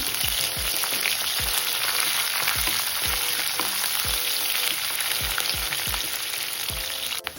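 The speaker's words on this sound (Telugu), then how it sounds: "శనగబేడలు, 1/2 కప్పు ఉల్లిపాయ ముక్కలు, 4 పచ్చిమిర్చి కొద్దిగా వేగనివ్వాలి" Onions, chana dal, green chillies and tempering seeds fry in oil in a kadai. A steady close hiss of sizzling runs throughout, punctuated by regular spoon scrapes and taps against the pan.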